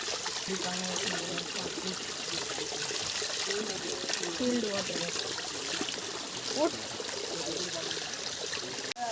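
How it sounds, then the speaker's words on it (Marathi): Steady rushing, gurgling water from a waterfall at Raigad Fort in monsoon rain fills the scene throughout, with a few faint voices underneath. "सुंदर असा खळखळता आवाज धबधब्याचा"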